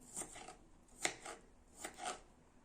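Several crisp knife chops through vegetables and red pointed peppers on a cutting board, spaced irregularly with short pauses between strikes, close and fairly quiet, with no talking.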